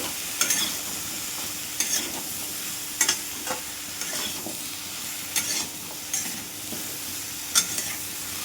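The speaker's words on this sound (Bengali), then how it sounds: "সবজিটা ভালোভাবে ভেজে নিয়েছি" Mixed vegetables frying with chilli, turmeric, coriander and cumin powders, stirred with a spatula in regular scraping strokes of roughly one per second over a soft steady sizzle.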